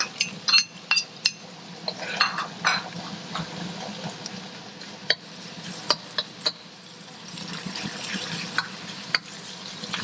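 Onions hit a hot pan over high gas for lo mein, a close stir-fry sizzle with sharp scraping and clanking spatula strokes at irregular intervals over a low background hum.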